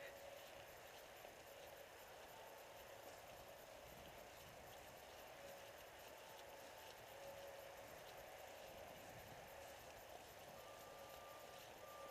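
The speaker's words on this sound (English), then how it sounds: "Beeping you hear is construction at the airport." Faint intermittent reversing beeps from a distant construction vehicle at an airport, repeating over a steady low rumble of outdoor background noise.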